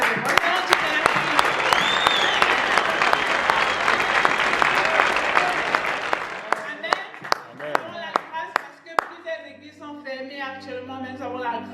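A church congregation applauding and cheering at a French-language worship service: dense, loud clapping for about six seconds, thinning into scattered individual claps with voices and music underneath.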